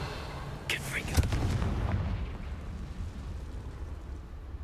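A Confringo fire spell in Hogwarts Legacy, set inside a cave, goes off as a booming blast with a sharp crackling burst and a rumbling low tail that fades over a few seconds.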